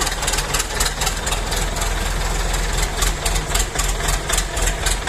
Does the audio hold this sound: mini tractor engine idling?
yes